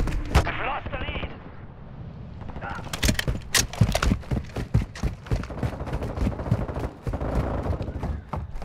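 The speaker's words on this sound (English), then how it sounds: "I was not expecting the guns to honestly sound that vicious." Loud, sharp gunfire from the shooter game Modern Warfare II, with a few heavy blasts followed by rapid bursts of automatic fire in uneven clusters, close and dense, with a voice speaking in places.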